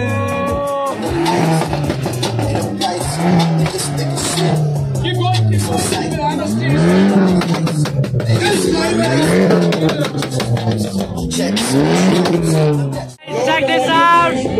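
A heavily modified Ford Mustang GT at an underground car meet in India revs loudly in repeated rising sweeps, with excited voices shouting close by over the engine.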